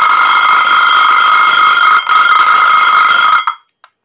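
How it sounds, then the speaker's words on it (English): A homemade burglar alarm made from a 3V DC motor rattling against coffee cans gives a loud, continuous metallic ringing buzz for about three and a half seconds, briefly dipping midway, then cutting off with a small clack afterward. "you got your burglar alarm"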